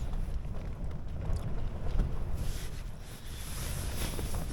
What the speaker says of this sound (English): the wind is still strong